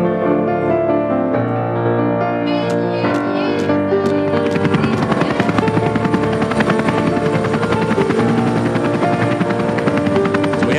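A helicopter flies toward a remote jungle island, its rotor chopping loud and close. A rising engine whine and rapid blade thumps build into a dense, steady roar.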